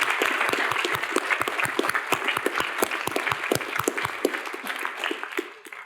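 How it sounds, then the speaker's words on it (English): A room full of people claps at a city council meeting, with dense, sustained applause that stays loud throughout and then tapers off at the very end. "Round of applause."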